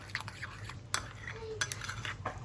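A spoon stirs and mixes food in a bowl during Pakistani-style meal prep, with soft, irregular clinks and scrapes at close range, fairly quiet.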